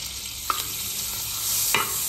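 Oil and butter sizzle in a pan before pasta, a steady close frying hiss with a couple of brief scraping stirs, alone with no voices.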